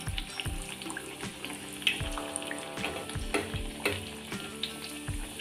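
Kachoris deep-frying in hot oil while oil is spooned over them, a steady close sizzle with bubbling crackle and occasional soft knocks of a ladle against the pan.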